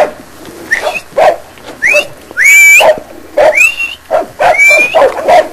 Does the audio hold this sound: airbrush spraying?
no